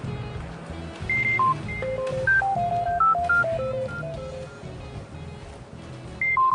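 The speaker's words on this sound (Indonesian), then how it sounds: "Masih aja suka nelfon-nelfon Reno" A phone is dialed with a quick run of touch-tone key beeps, the tones rising and falling over a steady background hum and noise.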